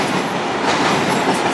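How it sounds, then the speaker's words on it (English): A train rushes past nearby as a loud, steady rumbling roar that fills the whole short stretch, with no voices. "You're probably going to hate the trains coming and going."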